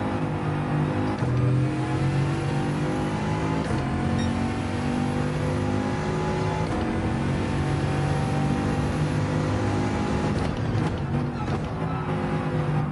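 Race car engine in the Gran Turismo 7 video game, a steady loud drone with shifting revs as the car spins under braking, continuous throughout with no talk.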